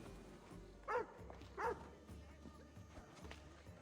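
A dog barks twice in quick succession in Assassin's Creed Odyssey, sharp yaps at moderate distance over soft game ambience, followed by faint footsteps and rustling.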